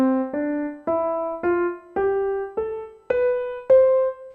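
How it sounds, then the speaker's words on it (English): Eight sustained, melodic notes played tenuto on a single pitched instrument, each leaned into and held full length, rising step by step with every other note given extra weight, clear and close with no talk. "So if I were to play a tenuto every other note,"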